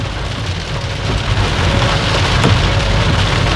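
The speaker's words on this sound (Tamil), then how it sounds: "செம மழை" Heavy rain pours down steadily during a thunderstorm in Thoothukudi, a dense continuous hiss of drops drumming on surfaces with a low rumble of thunder underneath, loud and close throughout.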